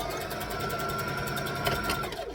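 A sewing machine runs steadily along the side seam of a fabric library bag, its rapid, even mechanical whir continuous and close, with a brief faint voice underneath.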